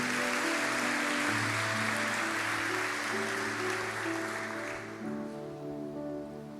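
A church congregation applauds during an evening service, a broad sustained clapping wash that fades gradually toward the end while sustained musical tones, likely keyboard, play underneath.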